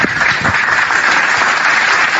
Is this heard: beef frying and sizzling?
no